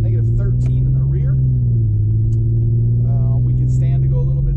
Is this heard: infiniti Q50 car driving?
yes